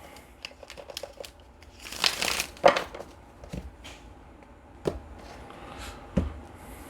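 A deck of tarot cards being shuffled, heard as soft papery rustles and a denser riffling burst partway through, followed by a few isolated light taps, close and quiet with no talking.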